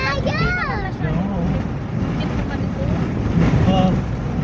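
Strong coastal wind in Ilocos Norte buffets the microphone in a constant, loud rushing roar, while people talk and exclaim over it.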